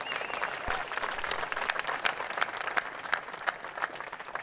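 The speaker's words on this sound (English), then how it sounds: "You can give him a round of applause for that." Audience applause at a White House ceremony honoring a NASCAR Sprint Cup champion, a steady spread of clapping from a moderate crowd with scattered individual claps standing out, heard at some distance.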